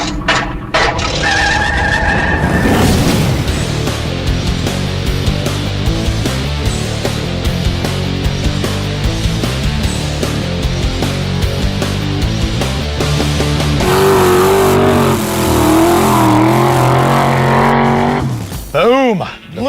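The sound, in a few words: Vette Kart car driving on two wheels, skidding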